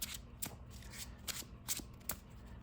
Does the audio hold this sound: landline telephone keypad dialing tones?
no